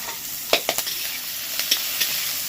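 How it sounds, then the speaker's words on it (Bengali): Chopped green chillies hit very hot oil and sizzle with a constant bright hiss, punctuated by a few sharp crackles and stirring clicks close up, with no talking. "তেলটা এত গরম হয়েছে একদম সঙ্গে সঙ্গে ভাজা হয়ে যাচ্ছে"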